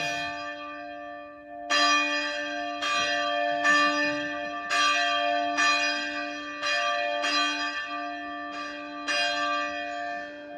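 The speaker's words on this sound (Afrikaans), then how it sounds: "ek is seker al van die klok gaan lui en toe lui ek" A church bell tolls before a Sunday service, each ringing strike landing at a slow, steady interval with a long metallic hum carrying between the blows, heard alone without voices.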